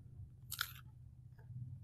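A single crisp bite into a crunchy coconut fritter, cucur kelapa, close and loud, followed by a faint crunch of chewing.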